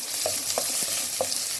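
Finely chopped onion fries in two spoons of oil with mustard seeds and cumin, a dense close sizzle with repeated scraping strokes of a spoon stirring, cutting off abruptly.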